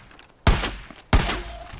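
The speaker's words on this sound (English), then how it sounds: "this is a semi-automatic 50 cal sniper rifle, which has a suppressor on it" Two suppressed shots from a semi-automatic .50 cal sniper rifle in Far Cry 5, each a sharp muffled thump with a short decaying tail, spaced about two-thirds of a second apart over quiet ambience.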